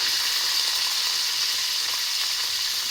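Mustard seeds, curry leaves and green chillies sizzle steadily in hot oil, a loud, even hiss with no break and no talk.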